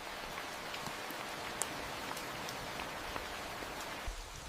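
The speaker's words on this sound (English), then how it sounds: "Rain refreshes the forest and hides sound." Rain falling in a forest, a soft, steady patter of drops with occasional louder individual splashes, faint and continuous with no voices.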